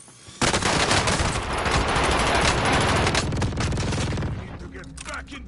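Sustained rapid automatic gunfire in an online multiplayer shooter video game, loud and close, bursting in suddenly and rattling on for several seconds before thinning out, with players' voice chat mixed in.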